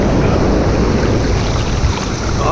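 Loud, continuous roar of rushing water from a waterfall at an icy lake shore during winter swimming, a dense, unbroken wash of noise with no voices over it.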